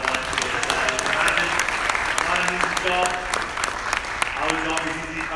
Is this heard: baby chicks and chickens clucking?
no